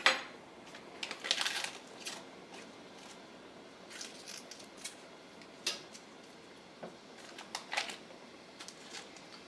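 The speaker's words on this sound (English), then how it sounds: "Just make sure I whisk it really good" A whisk scrapes and clinks against a pot while stirring polenta or grits on low to medium heat, with irregular light metallic taps and scrapes at close range and no talk.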